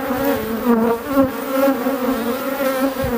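Honeybees buzzing around an opened hive during an inspection, a dense, continuous close-up drone with slight wavering pitch and no voices.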